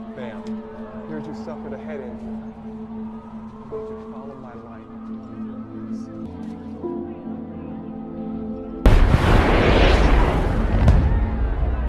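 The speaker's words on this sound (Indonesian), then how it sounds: "Gedung itu pun seketika meledak" A sudden, loud explosion of a building in the film Batman v Superman erupts after a stretch of talking over a low musical drone, followed by a sustained roaring rumble.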